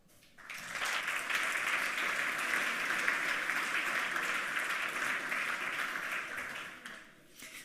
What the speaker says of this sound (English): A warm applause for Sergey